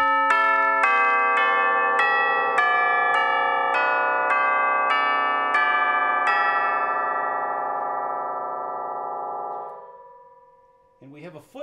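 A run of bright metallic tubular chimes struck on their caps one after another in a steady descending sequence in a percussion studio, ringing on and slowly fading, followed by a brief clatter.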